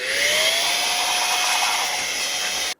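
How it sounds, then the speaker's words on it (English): A small electric air blower whirs steadily at close range, blowing dust out of a Minisforum DEG1 Oculink mini PC dock. The whine rises slightly in pitch as it spins up, holds, then cuts off abruptly. "I might run a little blower through it to get rid of some of the dust that's in here first."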